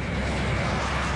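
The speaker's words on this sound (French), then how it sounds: "le Concorde accélère pour atteindre 320 km/h." The Concorde jet accelerates down a 4000-metre runway toward 320 km/h, a dense, loud and unbroken engine roar that fills the whole moment.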